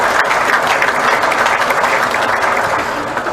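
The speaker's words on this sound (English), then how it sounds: "So I think we should give Johnny especially a round of applause." A lunchtime audience at a 2014 event gives a dense, loud round of applause, many hands clapping steadily with no break.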